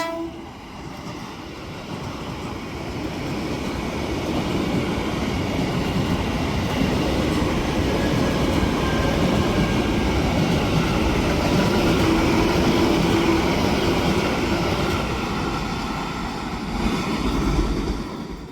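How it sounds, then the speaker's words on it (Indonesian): KRL commuter train running straight through Gambir station in Jakarta at night, a continuous rumbling roll of wheels and carriages that swells and holds loud mid-pass, then eases off, with no voices. "KRL di stasiun Gambir ini hanya melintas langsung."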